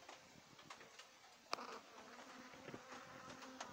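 A bee buzzes close to the camera at a hive, a faint steady insect drone with occasional louder passes and a sharp tap as it strikes near the lens.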